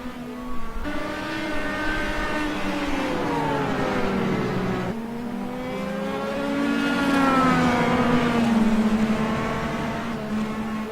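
Race cars scream past in a continuous, loud engine roar during the Road America endurance race, two cars running close together, their pitch sliding down and rising again as they go by.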